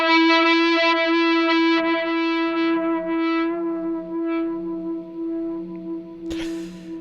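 A BOSS SY-200 synth guitar tone pushed through heavy distortion becomes a wild, swampy fuzz: a long sustained buzzing note with shifting lower tones beneath, ending in a short sharp burst.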